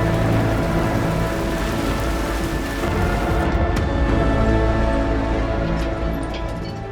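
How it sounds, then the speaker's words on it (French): Heavy rain and wind roar without a break in a storm at sea, staged for a Bible film. A few sharp cracks and rumbles break through the dense, close wash of sound. "la tempête continue à nous secouer avec force"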